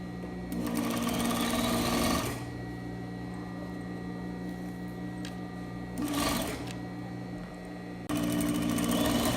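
A sewing machine stitching a fabric waistband runs in three loud whirring bursts: a long one, a short one, then another at the end. A steady motor hum fills the pauses between them, and no one speaks.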